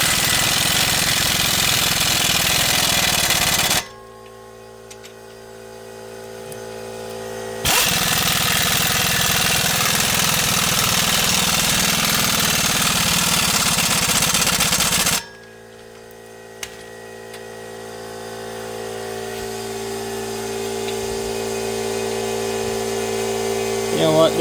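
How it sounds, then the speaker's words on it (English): An impact gun torques down the lower control arm bolts on a 2016 GMC Acadia Denali. It fires in long, loud, continuous bursts separated by short pauses, and there is no talk. "I'm just going to torque everything down with my gun and put everything back"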